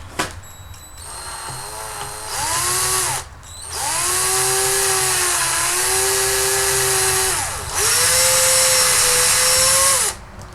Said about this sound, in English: then drill some holes that match the diameter of this